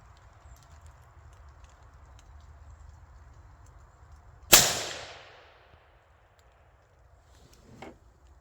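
A single loud gunshot fired at a pumpkin outdoors cracks sharply and trails off in a short echoing decay, followed by a faint thump a few seconds later against quiet background.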